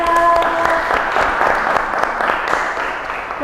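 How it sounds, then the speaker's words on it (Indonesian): A classroom group of students claps together in brisk, fairly loud applause for a few seconds, with a faint voice mixed in at the start. "kasih aplaus juga"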